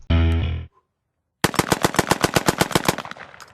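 A shotgun fires in a rapid string of about fifteen sharp, evenly spaced blasts after an opening tonal burst and a short silence, loud and close.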